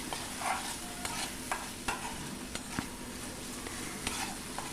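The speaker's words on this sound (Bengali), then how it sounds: "পোস্ত বাটাটা দিয়ে আবারও একটু নেড়ে চেড়ে ভেজে নেব এটাকে" Potato and paneer with poppy seed paste stirred and fried in a pan over a medium flame: a steady sizzle with repeated scraping stir strokes at an irregular pace, close and clear, with no talking.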